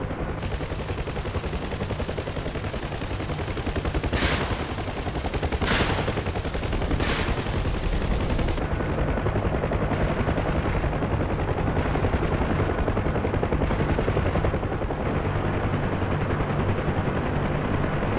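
Door gunners on a UH-1 Huey helicopter in the DCS combat flight sim fire machine guns in three loud, sharp bursts, then a steady rotor and engine drone carries on alone with no voices.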